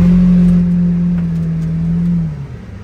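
A car revving hard to pull free of deep snow in Mammoth Lakes, California, a loud close engine drone holding steady before easing off at the end.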